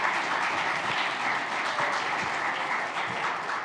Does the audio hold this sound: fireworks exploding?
no